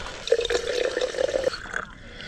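Water streaming from a public drinking fountain at a bike stop in Laguna Beach, a steady close trickle with a faint tonal hiss lasting about a second and a half before easing off.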